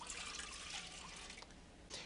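Water pours into a pan for poaching, a soft steady trickle with faint splashing, quiet and close, cutting off briefly near the end; no talking.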